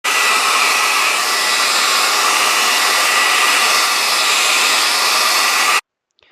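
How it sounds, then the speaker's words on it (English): A hair dryer on its high setting heats the screen of a broken iPad 4, blowing as a loud, steady rushing roar that cuts off abruptly near the end. "the dryer should be in a high setting"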